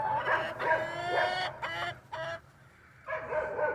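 Chickens cluck and squawk inside their sleeping coop on a winter morning in Northeast Ohio, several close, busy calls in short bursts with a brief quiet gap, no voices.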